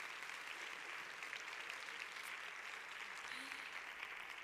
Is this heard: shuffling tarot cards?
no